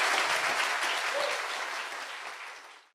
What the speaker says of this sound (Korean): 박수 네, 부탁드립니다.